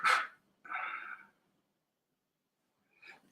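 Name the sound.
dogs barking outside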